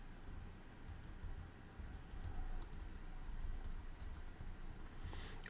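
Fingers tap on a computer keyboard while HTML code is being written, producing quiet, steady clicking over a faint background hiss.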